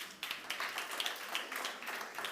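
Conference audience clapping to welcome a speaker at an industry presentation, faint scattered handclaps in an uneven rhythm, a small crowd heard from a distance.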